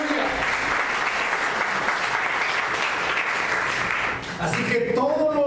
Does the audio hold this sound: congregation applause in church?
yes